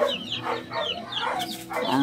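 Several chickens cluck and squawk close by in a busy, overlapping flurry of short calls.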